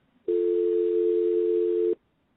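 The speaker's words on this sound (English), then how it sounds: "So now when you hear this dial tone, I'll play this for you." A steady telephone dial tone sounds alone for under two seconds, a clean constant hum that starts and stops abruptly.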